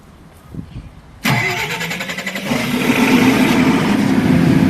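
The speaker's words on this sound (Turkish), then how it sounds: "jeneratör olarak 225 kW dayı motorlu jeneratörümüzü çalıştırıyoruz" A 225 kW diesel generator engine cranks and catches with a sudden roar, then settles into a loud, steady running rumble that grows slightly fuller.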